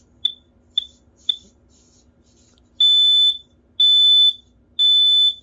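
A FireX smoke alarm, just fitted with a battery, gives three short high chirps, then sounds three loud, long, piercing beeps in a steady rhythm.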